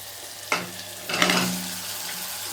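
Brinjals stuffed with green pigeon peas and spices, with garam masala added, fry in oil over a medium flame, a steady close sizzle broken by two louder bursts as the pan is stirred.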